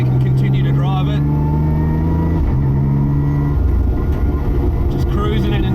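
Cabin sound of a 1000hp widebody R33 Skyline GT-R cruising at low revs through an industrial area with a sequential gearbox: a loud, steady droning engine hum with shifting tones, and voices talking over it.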